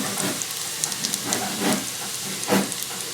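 Chicken pieces dropped into a pan of browned garlic for Ginataang Manok sizzle with a steady hiss, swelling in a few louder bursts as the meat hits the hot oil.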